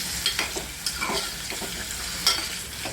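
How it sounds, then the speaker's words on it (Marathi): Whole potatoes frying in oil in a pan for a mutter aloo sabzi, a steady sizzle with occasional stirring scrapes, close and moderately loud, no talking. "तेलामध्ये हे पूर्ण बटाटे आपण हे भाजून घेणार आहोत"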